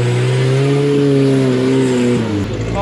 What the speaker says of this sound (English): That thing makes brap sounds really good.